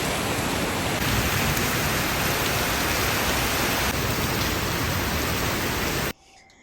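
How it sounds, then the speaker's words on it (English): Heavy rain pours in a steady, dense roar close by at an airport, then cuts off abruptly near the end. "You can hear me, but it's raining so hard."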